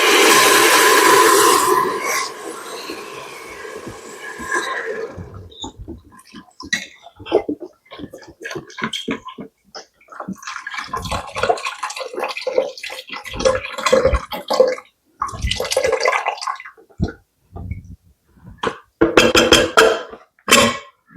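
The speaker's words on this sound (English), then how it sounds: "I'm going to put in this whole box of beef broth" Beef broth from a 32-ounce box pours into a soup pot as a steady liquid stream for a few seconds. Then come clinks, taps and splashes of the box and pot being handled, with no talking.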